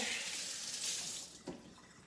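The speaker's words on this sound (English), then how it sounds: "I got my water on right here because this is for my broccoli stalks" A kitchen tap runs water steadily for rinsing broccoli stalks, a close, continuous hiss that fades somewhat near the end with a brief splash.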